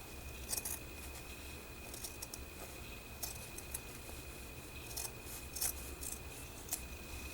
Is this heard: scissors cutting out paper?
yes